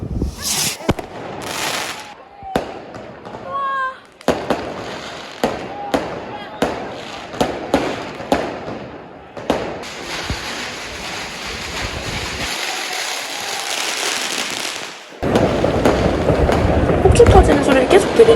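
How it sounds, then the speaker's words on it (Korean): New Year's Eve fireworks and firecrackers go off in a German street: a run of sharp, loud bangs and crackles at an irregular rhythm, some close and some farther off, then a long dense crackling barrage, with crowd noise and voices around. "저희는 거리에서 사람들이 터트리는 불꽃놀이를 구경하는 중이에요"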